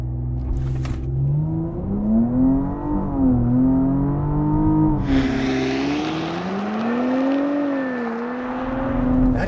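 A 2022 Porsche Cayenne E-Hybrid Coupe with a 3-liter turbo V6 launches from a performance start, its engine note climbing through gears with shift dips, loud and close, then settling into a rising whoosh of speed.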